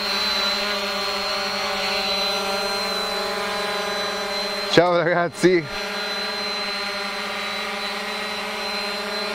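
A steady, high-pitched whirring buzz from a hovering ZLL SG908 GPS quadcopter drone runs throughout, close by, with someone briefly speaking over it midway.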